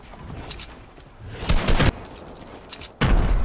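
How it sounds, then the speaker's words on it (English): Gunfire bursts out in the video game Fortnite: a short cluster of sharp, loud shots, then a lull of quieter ambience, then another heavy blast near the end. "Who is shooting at me, bro?"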